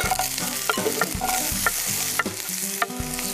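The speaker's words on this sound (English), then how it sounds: "These onions on to saute." Onions sauté in a hot pan with a close, steady sizzle, broken by repeated scraping and clinking as a utensil stirs them, with no talking.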